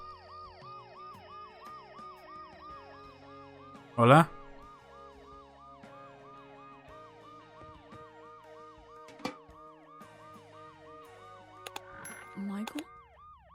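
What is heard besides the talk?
ambulance siren, from video game Dead Synchronicity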